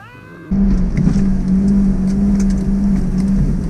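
A Mitsubishi Pajero Mini revs hard at about 6,000 RPM during a hill climb with the turbo spooling, a loud, sustained engine drone that holds steady after a sudden onset.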